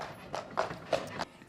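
Horse hooves clip-clop at a slow walk while pulling a carriage through a town street in Tenby, Wales, with four distinct, fairly faint strikes in an uneven rhythm.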